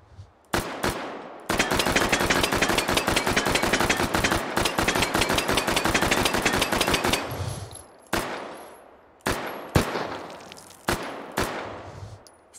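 Gunfire in a VR shooter game: a few single shots, then a long rapid automatic burst lasting several seconds, followed by scattered separate loud shots, sharp and close, with no talking.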